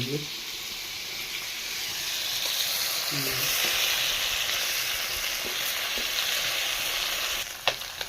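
Fish frying in hot oil, a steady close hissing sizzle that carries on throughout, with faint murmuring voices underneath and a knock near the end.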